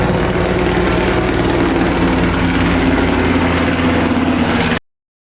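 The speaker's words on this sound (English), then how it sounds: "Above him fly American military drones and a special operations helicopter known as the Little Bird." A Little Bird special operations military helicopter flies overhead with a loud, steady rotor thrum and engine whine that hold throughout, then cut off abruptly near the end.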